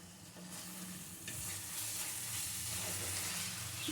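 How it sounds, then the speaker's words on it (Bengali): Eggs go onto a fried masala in a pan for shahi egg korma, and a loud continuous sizzle and hiss fills the whole stretch, swelling slightly after the first second or so. "এখন আমি ডিমগুলো এর উপরে দিয়ে দিচ্ছি"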